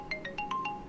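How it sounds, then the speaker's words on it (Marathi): A phone ringtone plays alone in a room, a quick repeating pattern of bright electronic chirps, about six short tones in rapid succession, clear and close. "पुष्कळ दिवसात आला फोन"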